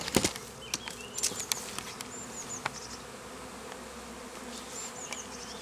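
Honey bees buzz steadily at close range at the hive entrance, with individual insects darting past in quick bursts over a soft continuous hum.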